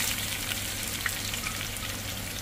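Ginger and garlic frying in a pan as beef preparation begins, giving a steady, close sizzle that holds evenly throughout with no talking.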